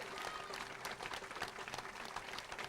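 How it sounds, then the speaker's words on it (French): An audience applauds a rural hero named Fabrice during a French television show, a steady dense patter of clapping heard alone for a few seconds. "On applaudit Fabrice et ce héros rural."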